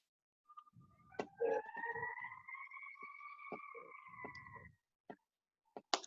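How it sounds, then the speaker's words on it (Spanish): An ambulance siren wails in a long, steady tone that rises slightly, fairly faint and distant as it passes by, with scattered thumps and clicks around it before it fades out. "acaba de pasar como una ambulancia"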